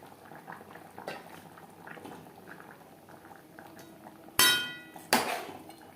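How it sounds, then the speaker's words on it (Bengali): Gravy for a shol fish and potato curry bubbling in a pot: a soft, low simmering hiss with faint pops, then two sharp, loud clinks or knocks near the end, with no talking. "গ্রেভি ফুটে ওঠা পর্যন্ত অপেক্ষা করব।"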